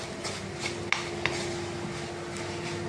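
Whole spices with black pepper dry-roast in a pan, stirred with light rattling scrapes and a couple of sharper clicks over a soft continuous background.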